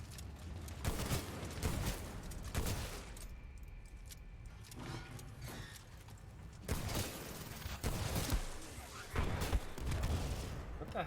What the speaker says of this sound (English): Some sort of explosion?